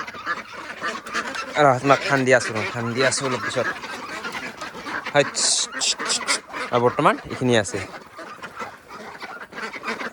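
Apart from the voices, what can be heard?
ducks quacking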